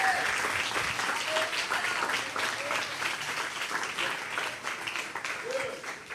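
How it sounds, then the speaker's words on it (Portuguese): A conference congregation applauds the Lord in a church setting, loud and dense clapping from a large crowd sustained throughout, with faint voices mixed in. "Vamos aplaudir ao Senhor em nome de Jesus."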